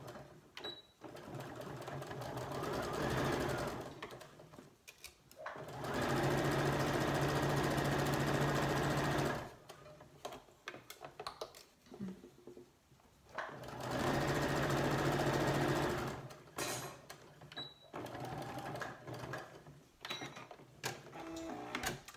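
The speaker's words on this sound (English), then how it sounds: "Then we're going to sew that edge together." A sewing machine stitches along the edge of an envelope cushion cover, running in two sustained bursts with a pause and quieter handling between them, loud and close.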